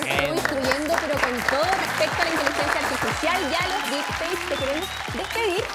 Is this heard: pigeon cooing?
no